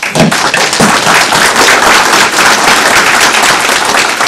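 Steady, dense applause from an audience at a business awards event, continuous clapping at even strength for a few seconds with no talk over it.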